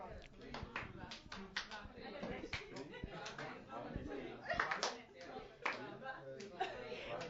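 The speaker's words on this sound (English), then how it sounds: "Don't say one, you just clap." A group claps together in a loose rhythm, sharp claps mixed with chatter and laughter, fairly close.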